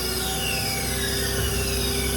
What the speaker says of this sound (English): The truck idles up when you cut the PTO switch on